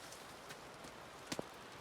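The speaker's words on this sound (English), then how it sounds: "It's beautiful out here. It's raining" Light rain falls outdoors beside a fire-heated outdoor bathtub. It is a faint, steady hiss with a couple of sharper drips near the end.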